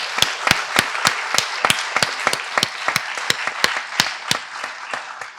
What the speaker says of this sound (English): I think we can give them a round of applause in absentia